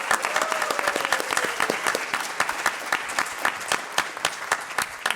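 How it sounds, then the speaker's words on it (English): An audience at a live Star Wars Celebration podcast stage in Europe applauds the BB-8 droid, giving steady, dense clapping from a large crowd throughout, with no talk over it. "Let's give BB-8 a round of applause"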